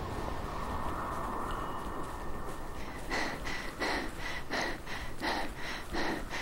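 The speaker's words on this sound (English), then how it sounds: "My chick starts panting for 2 seconds, even though her stamina bar is still full." A female character in the zombie game Dead Island pants in quick, rhythmic breaths that start partway through and repeat steadily over a constant game background.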